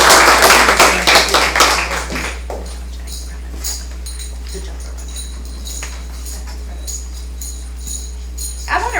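Audience at a school board meeting applauding three Olympians, a burst of clapping loudest at the start and quickly thinning to scattered claps over a steady low hum.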